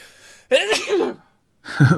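A single sharp sneeze bursts out close by in a quiet podcast studio, followed after a brief pause by a second short burst of breath or throat noise.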